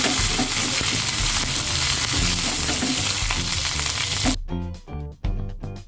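Curry leaves sizzle in hot oil with browned onions for tempering a chicken stew, a dense crackling fry that runs steady and loud, then breaks into sharper spitting pops near the end.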